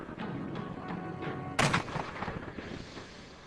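A single loud gunshot or artillery-style blast cracks out sharply, trailing into a rumbling decay, with fainter shots or impacts just before it.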